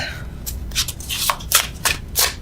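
Tarot cards shuffled by hand in an overhand style, a run of soft papery swishes and flicks in quick bursts over a low room hum, close and fairly quiet.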